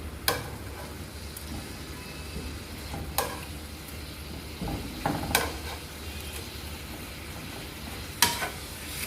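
Beef steak fries in a pan with a soft, continuous sizzle, broken by a few sharp clicks and scrapes as it is stirred and turned.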